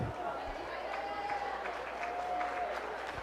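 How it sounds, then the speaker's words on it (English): Audience at a county fair junior hog showmanship class applauds in a steady, moderate wash of distant clapping, with a faint voice over it. "Let's give this class a round of applause."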